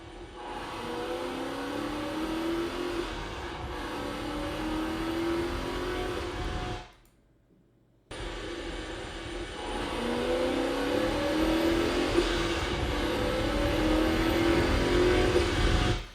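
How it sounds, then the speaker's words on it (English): A car engine revs steadily with a deep, rumbling exhaust blended with intake whoosh, cutting to near silence briefly before the engine sound resumes. "Now let's combine that with the exhaust."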